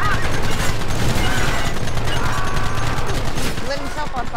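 Rapid gunfire crackles from the Red Dead Redemption video game, loud bursts and shots under constant game noise, with voices shouting over the action.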